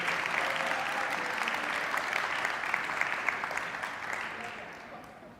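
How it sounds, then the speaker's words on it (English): A crowd at a children's forum panel gives a speaker warm, sustained applause, even and full-bodied throughout before gradually fading out near the end. "Give her a warm round of applause, please"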